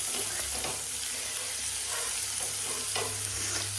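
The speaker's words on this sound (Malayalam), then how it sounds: "ഫസ്റ്റ് ഉള്ളി ഇട്ട് കൊടുക്കാം." Onions frying in a pan at home, a steady close sizzle with faint stirring scrapes running throughout.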